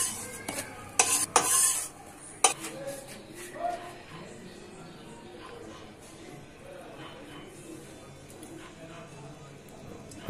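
Gram flour is stirred and fried in a kadai, a low hiss under spatula scrapes and a few sharp metallic clinks early on, with a voice talking over the quieter frying.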